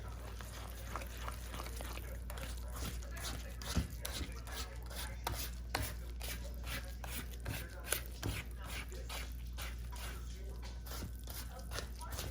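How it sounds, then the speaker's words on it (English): Yeast roll dough is stirred in a bowl after flour is added, making soft scraping and thudding strokes at an irregular pace over a steady low hum. "I'm just going to stir this up."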